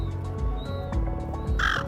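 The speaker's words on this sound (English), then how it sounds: "Silver gulls are highly vocalized birds that are famous for the following call." Silver gull calling with repeated harsh, raucous notes, close and fairly loud, continuing steadily through the short stretch and rising into a louder, brighter squawk near the end.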